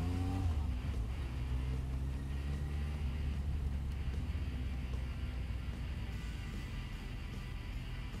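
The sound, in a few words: Suzuki Bandit 1250 fuel-injected motorcycle engine revving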